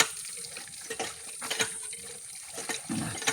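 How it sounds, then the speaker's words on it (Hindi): Water splashing from a hand pump outside Rupamau railway station, coming in uneven gushes and spurts with a steady background hiss, close and fairly loud. "अब हम पहुँचे हैं रूपा मऊ के स्टेशन के बाहर, जहाँ पर एक हैंड पाइप अब हमको शुद्ध पानी देने लायक मिला है साहब"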